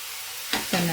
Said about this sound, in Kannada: ಬಟ್ ಸ್ವಲ್ಪ ಆಯಿಲಲ್ಲಿ ಚೆನ್ನಾಗಿ ಸ್ವಲ್ಪ ಫ್ರೈ ಆಗಬೇಕು